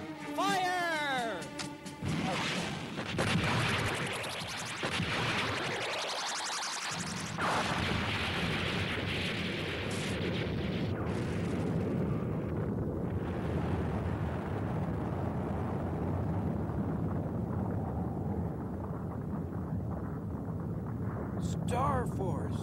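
Cartoon missile launch and blast from the space battleship anime Star Blazers: a loud rising whoosh gives way to a long, dense roaring explosion rumble that fills the scene and slowly fades near the end.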